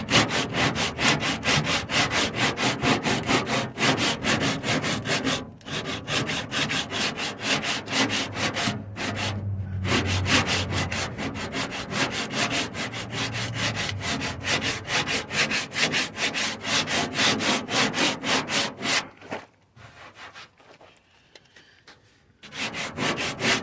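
Hand sanding of Bondo body filler on a car panel, a continuous loud gritty rasp of back-and-forth strokes with brief pauses, ending in a quieter stretch before the rubbing resumes.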